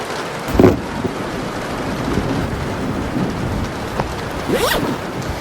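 Heavy rain pours in a steady broadband hiss, broken by a couple of sharp crackling bursts, with no voices.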